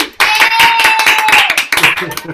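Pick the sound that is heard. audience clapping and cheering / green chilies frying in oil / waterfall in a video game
audience clapping and cheering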